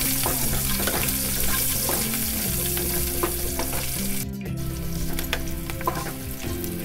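Onions frying in a pan for a raw banana mustard dish, a dense continuous sizzle close up with occasional stirring scrapes. A steady low hum runs underneath throughout.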